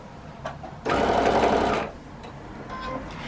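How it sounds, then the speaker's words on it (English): A sewing machine stitches Christmas quilt fabric in one loud, steady burst of about a second, preceded and followed by quieter handling noises. "and then you sew."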